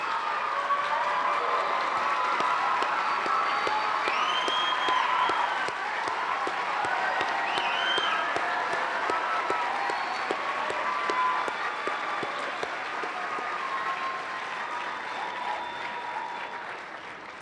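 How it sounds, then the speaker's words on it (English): Sustained audience applause honouring SEVA teachers at an award night, a dense wash of many hands clapping steadily and close for the whole stretch, easing slightly toward the end. "If you could please stand so we can give you a round of applause"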